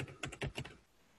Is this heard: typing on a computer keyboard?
yes